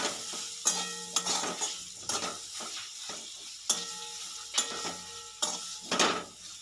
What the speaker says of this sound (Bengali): এবার আমি একটু মশলাটা নেড়ে নেব